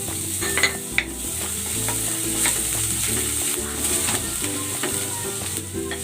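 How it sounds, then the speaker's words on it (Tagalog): Garlic sautés in cooking oil, a continuous close sizzle with faint stirring clicks, steady and alone without speech. "Gigisa ko na tong bawang."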